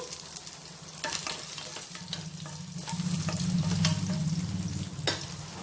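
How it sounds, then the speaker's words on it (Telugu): Dried red chillies and coarsely crushed garlic splutter in hot oil with mustard seeds for a bottle gourd curry, a close, steady crackling sizzle with a few sharp pops and utensil clicks that swells louder midway. "ఇప్పుడు చిటపటలాడేటప్పుడు ఎండుమిరపకాయలు తుంచి వేసుకోవాలి అలాగే కచ్చాపచ్చాగా దంచి పెట్టుకున్న వెల్లుల్లిపాయలు"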